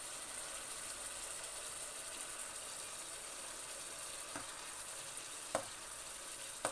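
Chicken masala with coriander powder fries in a pan with sour tamarind water, giving a faint, even, unbroken sizzle with a couple of small clicks near the end, no speech.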